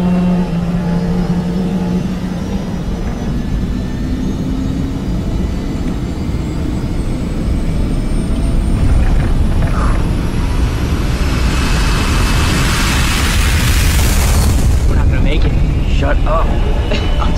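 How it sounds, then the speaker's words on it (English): A jet airliner roars steadily through its takeoff run, a broad continuous engine rumble swelling toward the end, with a film soundtrack and cabin voices mixed in beneath. "Ladies and gentlemen, we've been cleared for takeoff."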